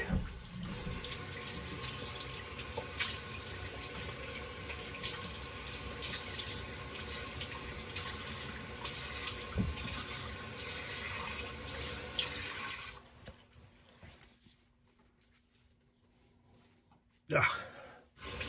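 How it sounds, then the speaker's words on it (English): Tap water runs into a sink for a quick rinse and clean-up after wet shaving with an open-comb safety razor, a steady close splashing flow that stops near the end, followed by a brief clatter. "Let's do a quick rinse and clean up"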